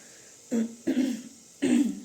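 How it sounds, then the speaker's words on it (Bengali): Three short, raspy coughs from one person nearby, close together, with a brief pause before the last, in an otherwise quiet room. "কিছুদিন ধরে প্রচণ্ড কাশি হচ্ছে"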